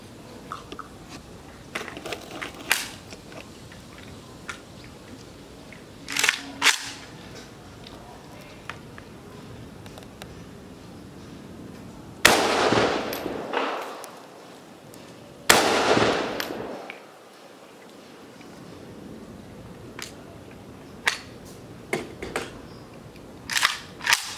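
AK-47 rounds fired at a Militech level 4 ballistic plate on a range in the Philippines, with several loud, sharp, spaced gunshots, two of them especially heavy and echoing, and scattered small clicks and handling noises between them.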